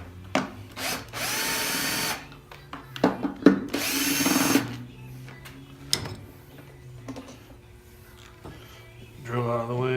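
A power drill removing screws from a starter whirs in short bursts, a few seconds each, mixed with clinks and handling noises, close by.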